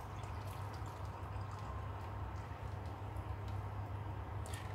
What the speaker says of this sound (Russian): Аккуратненько сливаем воду.